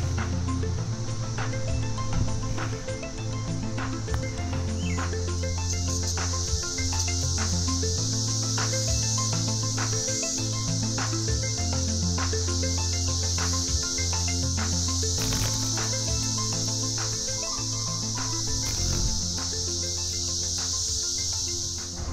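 A dense cicada swarm in a St. Louis–area park drones without a break, a loud steady high buzz that fills the whole stretch with no talk over it.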